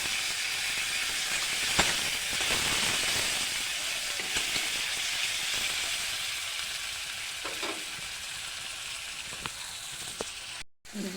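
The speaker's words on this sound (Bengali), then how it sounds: "এবার আমি কেটে রাখা টমেটোগুলো দিয়ে দিলাম" Chopped tomatoes are added to browned onions frying in oil in a pan, giving a loud, steady sizzle and hiss with occasional stirring scrapes that continue for several seconds before a brief dropout.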